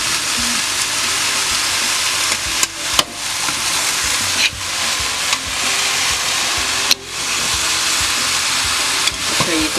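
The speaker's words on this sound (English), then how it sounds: "You could probably hear it sizzling here." Continuous loud sizzling hiss of hot oil added to a pumpkin soup in a pot, with occasional clicks and clatters from the pot or utensil, close up and without talking.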